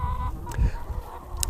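Chickens clucking softly around a mobile chicken coop fitted with four access doors and ramps, short scattered calls over low rustling and wind, fairly close.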